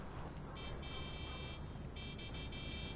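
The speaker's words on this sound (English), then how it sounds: "Oh, I hear honking." Car horn honking in GTA 5, a steady tonal blare sounding twice in long stretches over continuous loud traffic and engine noise, no voices.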